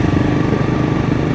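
A modified motorbike engine running close by, a loud, rough, steady buzzing drone with a fast pulsing throb throughout a short stretch, no voices.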